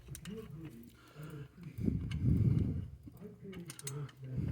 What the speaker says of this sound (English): Now, I'm going to go ahead and get the top one going with the ratchet wrench.